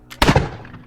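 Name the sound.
gunshot muffled by a silencer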